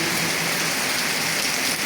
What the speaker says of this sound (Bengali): এই যে কী পরিমাণ বৃষ্টি আমাদের কারখানায়